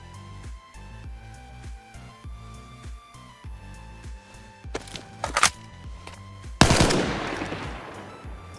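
Machine gun fire in DayZ, set in Chernarus: a steady run of evenly spaced shots, then a sudden louder, sustained volley of rapid fire close by, with no talking.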